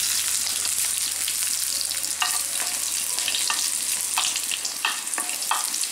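Garlic and mustard seeds fry in a little coconut oil, giving a constant bright sizzle dotted with small pops and crackles and occasional stirring scrapes, close and without voices.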